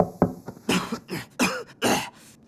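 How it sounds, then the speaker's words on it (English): An animated character coughs several times in quick harsh bursts, loud and close, with no talking over it. "you're coughing"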